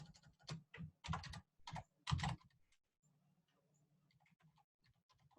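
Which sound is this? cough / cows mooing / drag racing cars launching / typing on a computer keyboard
typing on a computer keyboard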